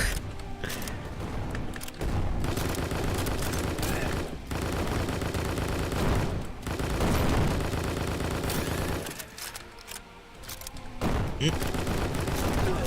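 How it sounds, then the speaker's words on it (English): Dense, nearly continuous gunfire from the video game Strike Force Heroes Remastered, including shotgun blasts, rapid bursts layered into a loud unbroken barrage with a few brief dips. "that is a mean shotgun that guy was wielding"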